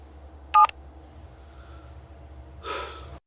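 A telephone keypad gives one short, clear dialing tone, followed by faint breathing and a soft sniff or sigh against a low background hum.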